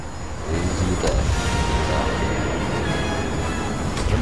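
Starfighter engines powering up for takeoff in Star Wars Battlefront 2, a loud, steady roaring rumble that swells in after a quiet half second and holds throughout.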